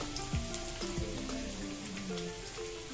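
Carrot and onion frying in a pan, a steady close sizzle with crackling spatters and a few scraping stirs, no voices.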